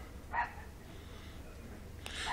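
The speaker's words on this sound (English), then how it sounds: "The dogs like to bark every time I do a video." Dogs barking, short yips in the background: one near 0.4 s and another just after 2 s, with a low hum in between.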